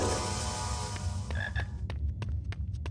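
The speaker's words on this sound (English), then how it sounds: "And there's a frog." A frog croaks in the Harry Potter and the Philosopher's Stone video game, a run of short, sharp croaks coming through clearly over steady game ambience and music.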